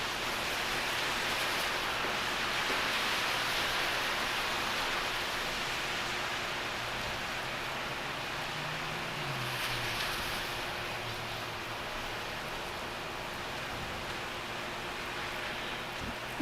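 Delta 951 Heavy jet taking off in a storm at Los Angeles airport, its engines throwing up spray off the wet runway: a steady, broad roaring hiss of water and thrust that holds evenly throughout, with no talk.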